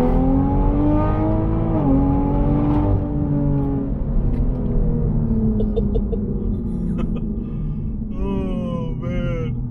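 A drag-race-tuned car accelerates hard from a second-gear roll, its engine droning and climbing in pitch through a gear change. The sound is heard from inside the cabin, and a voice cuts in briefly near the end.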